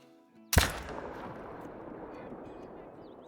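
A single loud rifle shot cracks out in the hunting video game Call of the Wild, taken at a pronghorn buck over 400 yards away, followed by a long rolling echo that fades slowly.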